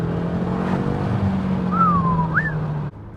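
A BMW M8 Competition driven hard, heard as a steady engine drone with a rising whine sweeping upward, then a sudden dip in level near the end like a gear change.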